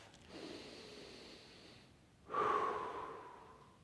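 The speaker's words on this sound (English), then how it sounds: "I also feel hope when I breathe, when I focus on my breath." Slow, deliberate breaths drawn in and let out: a soft, airy inhale, a short pause, then a louder, sharper breath with a slight snort-like quality, close and alone.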